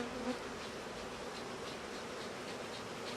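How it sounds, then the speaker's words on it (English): Honeybees buzz steadily around an open hive as the colony grows agitated during queen cell relocation, a dense, continuous swarm drone at moderate level with no speech. "Jeez, the bees are getting very flighty"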